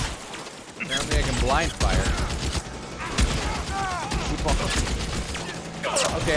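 Gunfire in the video game L.A. Noire, blind firing during a team shootout: repeated sharp shots and mechanical clatter come in irregular bursts, loud and close, with someone talking throughout.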